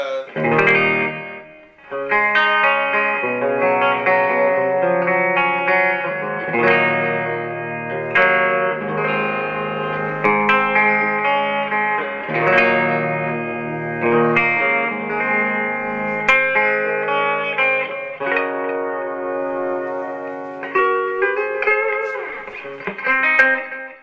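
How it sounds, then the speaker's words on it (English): Electric guitar through a TC Electronic Nova System tape delay plays a sustained melodic passage with a faint repeating echo trailing behind the notes, steady and full throughout. "Okay, so here's the tape delay."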